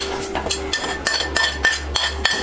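Vallarai keerai chutney ingredients being scraped and tipped from one metal pot into another, with a run of close, sharp clanks and scrapes of a spoon against the vessel at a steady uneven rhythm.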